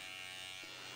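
A hair clipper fitted with a 3 guard steadily buzzing as it cuts hair during a long pixie cut with a textured fringe, one continuous close hum with no talking.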